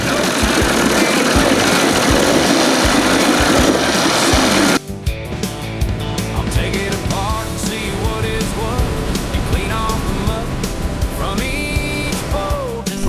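A 1981 20 HP Evinrude outboard motor runs cold and smoking heavily, first as a loud, dense roar, then shifting to a steadier, more tonal running note that continues without break.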